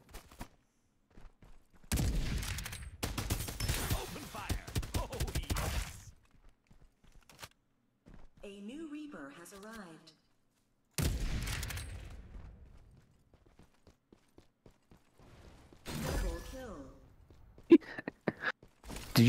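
Bursts of rapid gunfire in a video game, loud close volleys separated by silences, with scattered shots and a brief stretch of talk in between.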